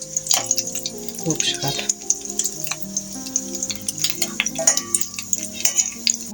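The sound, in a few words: asip (Kazakh sausage) frying in a pan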